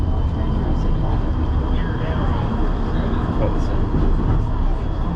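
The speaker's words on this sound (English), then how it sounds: "They're both on that narrow gauge tracks." White Pass & Yukon Route narrow gauge train running on tracks near Skagway, Alaska, a dense continuous rumble and rattle heard from on board, with people talking over it.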